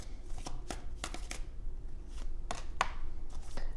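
Tarot cards are drawn and handled close up, giving soft papery snaps and slides as individual cards are flicked and laid down at irregular intervals over a faint background hiss.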